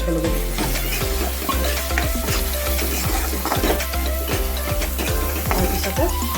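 Spice mixture of Kashmiri red chili, garam masala, cumin and coriander stirred in a hot pan for Assamese pork curry: steady sizzling frying with repeated rhythmic spoon scrapes and knocks against the pan, close and continuous.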